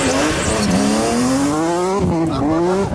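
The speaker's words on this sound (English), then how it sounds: "Yeah, supercharged E46 M3 engine in a little E30." Supercharged BMW E30 fitted with an E46 M3 S54 engine, revving hard with rising and falling engine tones and a brief dip near the two-second mark, loud and close throughout.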